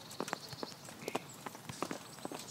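Horse hooves clip-clopping in an uneven, steady rhythm in the video game Kingdom Come, moderately close, with a faint background hum.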